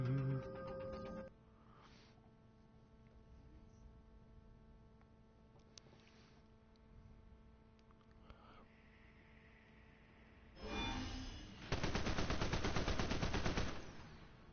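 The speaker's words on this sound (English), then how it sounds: "A lot of gunfire in that police station." Gunfire inside a police station in the video game DCUO, bursts of rapid automatic shots flaring near the start, in the middle and in a long loud stretch at the end, over a steady electronic hum.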